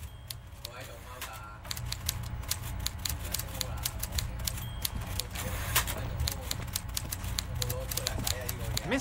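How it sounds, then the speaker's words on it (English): A typewriter in the game Disco Elysium clatters rapidly and without a break, dense sharp keystrikes with occasional heavier clacks, running the whole time over a low steady hum. "Everard Clare clatters away on his typewriter"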